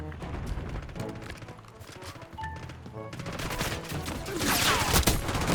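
Gunfire from a sniper rifle in the video game Black Ops 6 sounds amid a dense, continuous wash of battle noise, with no isolated shot standing out clearly.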